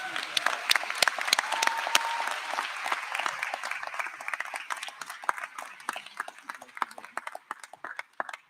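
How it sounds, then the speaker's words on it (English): Scattered, sparse applause from a medical school commencement audience, individual sharp claps standing out as it thins toward the end. "give him a round of applause"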